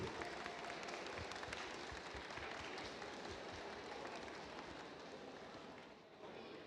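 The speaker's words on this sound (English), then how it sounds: "one round of applause for the winners of Line Follower Kids" Applause rises from the crowd for the winners of a kids' line-follower robotics competition, a dense, faint, continuous patter of many hands heard from a distance that eases slightly near the end.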